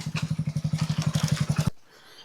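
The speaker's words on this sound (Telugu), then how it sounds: "అడవిలోంచి పాపం ఏదో గైడ్ ఆయన బైక్ మీద కష్టపడి తీసుకొస్తున్నాడు, కానీ చాలా కష్టం నడిపేది" A motorbike ridden by a guide through dense forest, its engine thumping in a fast, steady low pulse close by before cutting off abruptly, leaving near silence.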